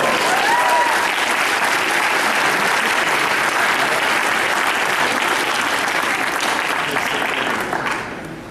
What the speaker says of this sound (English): as the fourth doctor, Mr. Mark Stafford, give a round of applause.